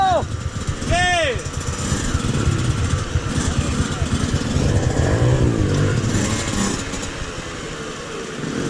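A motorcycle engine drones steadily and loudly while the bike crosses a river in the rainy season, with a brief high whine near the start and voices shouting at times.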